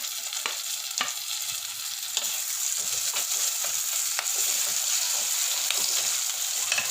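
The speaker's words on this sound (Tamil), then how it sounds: "வெங்காயம் நல்லா வதங்கியிருக்கு. இப்போ தக்காளி போடுவோம்." Onions and tomatoes cut in large chunks sizzle in a pan, a steady close hiss of frying broken by several sharp stirring scrapes at irregular intervals, no talking.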